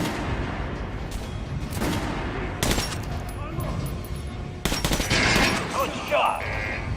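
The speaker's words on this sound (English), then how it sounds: "shooting for the center of the regular dummy's chest" Gunfire rings out at training dummies in Metro Last Light, with sharp bursts of shots that break through game sounds while a voice talks in between.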